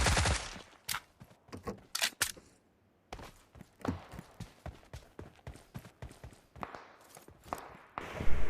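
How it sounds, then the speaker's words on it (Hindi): Gunfire in the battle royale mobile game PUBG Mobile, with irregular bursts of sharp shots, some near and some farther off, alongside footstep-like thuds and no clear talk. "तो आगे चल रही थी दबा के गोलियाँ,"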